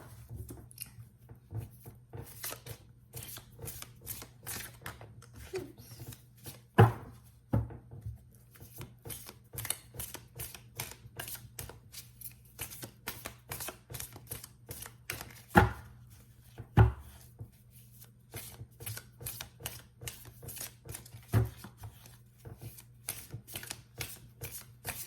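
Tarot cards are shuffled over and over in a steady riffling patter, with a few louder slaps and taps from the deck, close and uninterrupted by speech.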